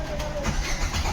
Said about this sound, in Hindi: तो यहाँ पे इंजन हमारा स्टार्ट हो गया है।